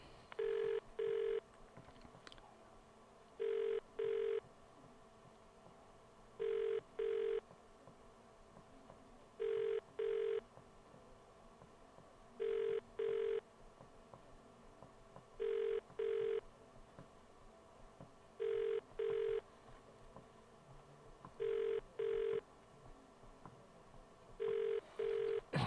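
A telephone on a police call line rings unanswered, repeating a double-burst ring pattern about every three seconds, steady and unchanging over a faint background hiss.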